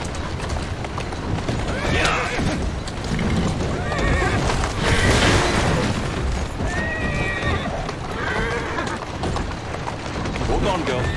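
Horse in the game Assassin's Creed Syndicate, whinnying several times over a steady clip-clop of hooves, with someone talking over it throughout.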